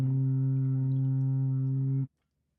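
A beer horn sounds one long, loud, steady blast with a deep, rich tone lasting about two seconds before cutting off abruptly, heard alone.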